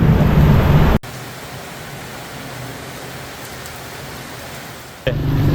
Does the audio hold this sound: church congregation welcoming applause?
no